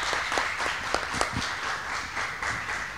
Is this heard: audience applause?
yes